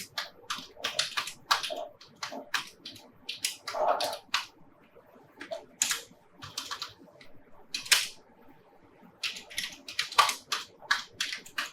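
Names are typed on a computer keyboard into Excel in quick clusters of close, crisp key clicks separated by short pauses.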